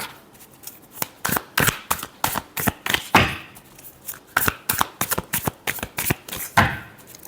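Tarot cards riffled and shuffled by hand during a love reading, a quick run of crisp, close flutters and snaps in uneven bursts, with brief pauses between them.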